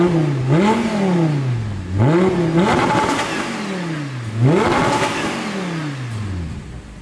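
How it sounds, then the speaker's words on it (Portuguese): A Ferrari engine revs hard three times, each loud close burst climbing sharply in pitch then falling away, with a steady throaty roar between the blips and no voices over it. "O barulho é sensacional, né? É barulho, pô, de Ferrari, filho."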